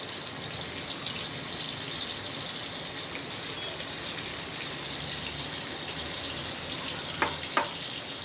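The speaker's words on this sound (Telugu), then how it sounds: "ఆ చేపలు బాగా అటు ఇటు ఫ్రై అయ్యేలాగా మనం లైట్గా ఫ్రై చేసుకోవాలి" Marinated fish frying in oil for fish curry, a steady close sizzle that runs throughout with a couple of brief clicks near the end.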